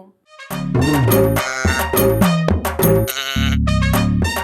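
A chorus of goats and sheep bleating loudly and close at a livestock market, calls overlapping one after another with barely a pause.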